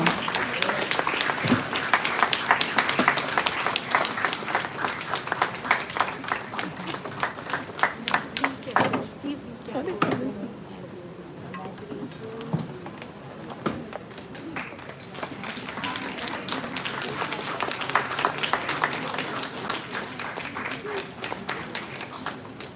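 An audience at a school event applauds in long bursts of dense clapping that swell, fade briefly in the middle, then build again, with scattered sharper individual claps and some speech over parts of it.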